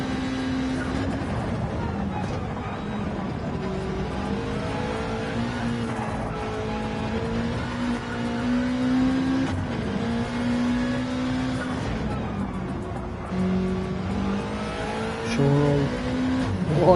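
A race car driven hard around a track, its engine note loud and close, rising and falling in pitch through gear changes, braking and acceleration, with a voice talking over it throughout.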